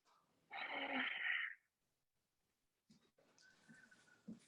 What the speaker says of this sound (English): Let me take a couple deep breaths.